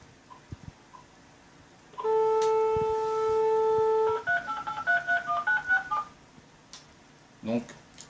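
A telephone dial tone holds steady for about two seconds, then a quick run of touch-tone beeps as a number is keyed in, followed by a brief click.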